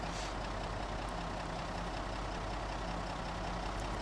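A vehicle drives along in the Project Zomboid video game, with a steady, loud engine drone and road rumble that holds constant throughout, with no voices.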